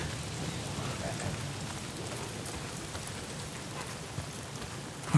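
Rain falls steadily in Days Gone, a dense, even hiss of drops pattering on surfaces, moderately loud and uninterrupted for several seconds without talk.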